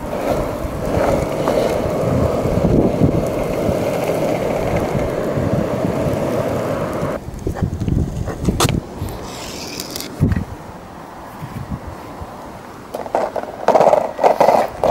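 A longboard with liquid-lubricated bearings rolls over pavement in a loud, steady rumbling roar. Midway it thins out into quieter, uneven rolling and clatter with gusts of wind.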